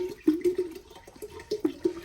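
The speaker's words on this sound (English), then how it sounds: "just pour the entire container in here" Soda punch pouring and glugging into a bowl, with short gurgling pulses in an uneven rhythm, close and moderately loud.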